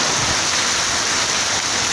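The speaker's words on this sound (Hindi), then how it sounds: "हमारे श्री कॉलेज में बहुत ज़ोरों से बारिश हो रही है।" Heavy rain pours steadily at Shri Kolayat, a dense, loud, continuous hiss of rainfall with no voices.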